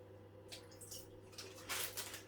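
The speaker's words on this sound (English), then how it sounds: "So I've let quite a bit of that water out." Water is poured out of a pot of Nissin pork ramen noodles, with a few faint splashing pours over a quiet low hum. No one speaks.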